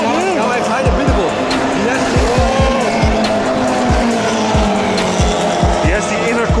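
Mazda MX-5 race cars in a cup race at Circuit Park Zandvoort roar past one after another, loud revving engines rising and falling in pitch as each car passes close by, with someone talking excitedly over them.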